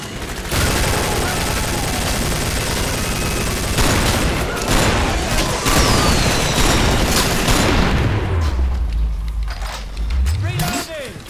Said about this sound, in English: So I like this shotgun, though.